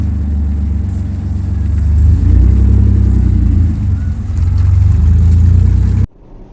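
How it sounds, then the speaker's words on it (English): A manual BMW 330ci coupe drift car, its engine giving a loud, deep, steady rumble that rises in intensity midway and then cuts off abruptly near the end. "I just finished driving the 330 drift car coupe"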